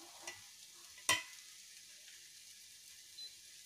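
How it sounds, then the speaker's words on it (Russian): Fried carrots are stirred in a pan before being tipped into a pot: a single sharp utensil scrape and clatter stands out over a faint background hiss, with a couple of softer knocks around it. "Пересыпаем нашу зажарку"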